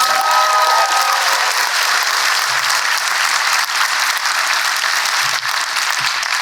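An audience at a public conversation event bursts into sustained, loud applause that fills the room from start to finish, steady with no voices over it.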